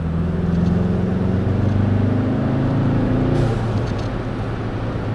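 A 2012 VW MK6 Jetta GLI with its resonator deleted pulls hard under acceleration from around 2,500 rpm, a loud, steady exhaust drone with a rising engine note heard up close and continuous throughout, with no talk.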